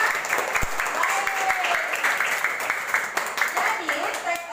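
Classmates in a classroom applauding, a lively burst of clapping with some voices mixed in, fairly close and loud throughout.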